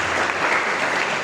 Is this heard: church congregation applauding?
yes